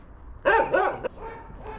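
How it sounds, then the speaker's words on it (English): A guard dog beside a small shed gives two quick, fairly close barks followed by a softer yelp, set against low background rumble. "So we've got a guard dog here and a little shed."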